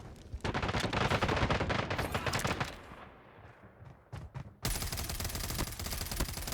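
Gunfire from a mythic weapon in a video game: dense, loud bursts of rapid shots fill the first three seconds, a few scattered shots follow, then another sustained loud volley to the end.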